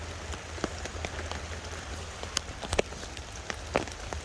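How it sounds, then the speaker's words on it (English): Heavy rain drumming on a tarp shelter at a wild camp, a dense, soft patter with scattered louder drips landing nearby, steady and close with no talking. "But considering the amount of rain that's outside, it's not horrendous."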